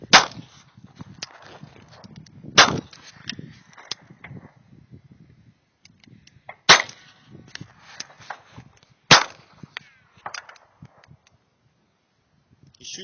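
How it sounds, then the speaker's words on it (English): Four sharp, loud .380 pistol shots ring out at a shooting range, spaced a few seconds apart, each with a brief echoing tail over quiet outdoor background noise. "shooting the 380"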